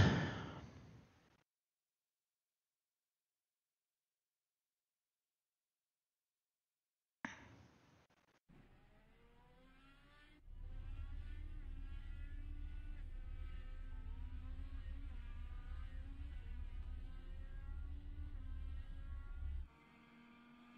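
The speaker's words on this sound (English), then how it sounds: "I think the car noise is too loud." Race car engine in the iRacing sim game at Sebring, a loud steady droning whine with shifting harmonic pitch that cuts in after a brief burst and a stretch of silence, then runs continuously.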